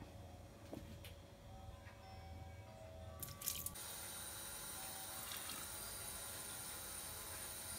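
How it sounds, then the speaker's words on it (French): Water pours into a Monsieur Cuisine food processor bowl for Moroccan bread dough, a faint steady hissing stream that starts after a brief click and continues evenly. "je mets tare pour mettre 300 grammes d'eau"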